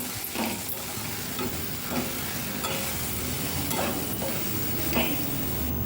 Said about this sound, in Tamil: மஞ்சத்தூள் ஆட் பண்ண பிறகு அதையும் நல்லா கிளறி விட்டுக்குவோம்